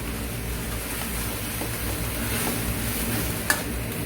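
Beef neck stir-fried in a wok with a spatula, giving a steady close sizzle and hiss with faint scraping and one sharp metallic clink near the end, no talking.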